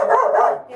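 A dog gives a single short, close bark that fades quickly.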